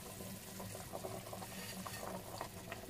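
Salted water with a little oil nearly at a boil in a pot for spaghetti, a steady close bubbling hiss with no talk.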